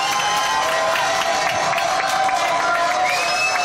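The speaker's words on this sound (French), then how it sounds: "veuillez applaudir mon invité du jour" A television studio audience claps and cheers for a guest actor, steady dense applause with shouts and whistles rising over it, loud and close throughout.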